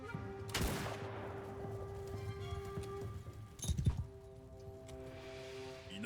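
Hooves of a mounted European cavalry unit in the samurai strategy game Shokuho clop faintly among distant gunfire volleys, with sharp bursts of musket fire around the middle over a steady low battlefield drone.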